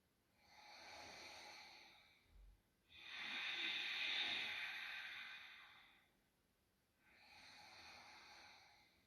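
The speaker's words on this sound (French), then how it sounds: "Reste dans le flux de la respiration Ujjayi." Ujjayi breathing during throat chakra meditation, three slow, soft, hissing ocean-like breaths, each several seconds long, close and quiet with no talk.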